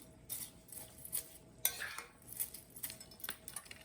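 Pasta ingredients are stirred in a pan, giving quiet, irregular scrapes and light metallic clinks of a utensil against the cookware, with no voices.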